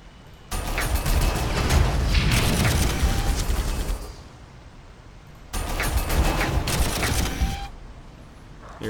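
Two long, roaring barrages from a Shadow Sword super-heavy tank cannon in Warhammer 40k Armageddon rumble for several seconds each, loud and booming, with a quieter gap between them.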